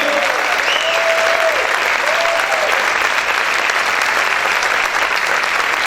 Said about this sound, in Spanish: Vamos a aplaudir fuerte al Señor